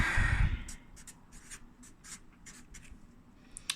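A pen scratches across paper in short, quick strokes drawing a zigzag line, close and faint in a quiet room, following a brief rustle at the start.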